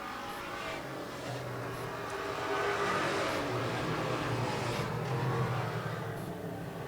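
Strictly Street race car number 99 roaring past on a track at Portland, a steady, loud engine drone blended with surrounding race noise, swelling slightly midway.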